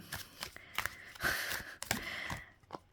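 A deck of playing cards is shuffled close by, with several quick riffles and soft slaps in irregular bursts and no talking.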